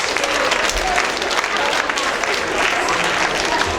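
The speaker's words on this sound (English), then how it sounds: "Give them a big round of applause." A crowd at a university dance marathon breaks into loud, sustained applause, dense clapping filling the room steadily, with voices faintly mixed in.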